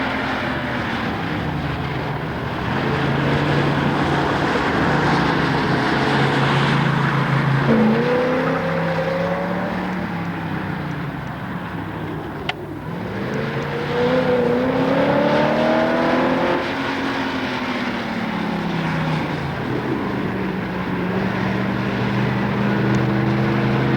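Datsun 240Z at an autocross event, engine revving and shifting through gears as it accelerates and slows repeatedly, a strong buzzing drone rising and falling in pitch over about twenty seconds.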